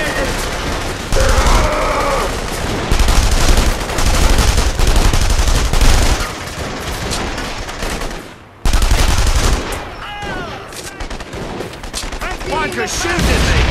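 Sustained bursts of automatic and single-shot gunfire from The Saboteur fill the scene, loud and dense, with a short gap near the middle before more firing and clanging resumes; faint shouting voices sit underneath.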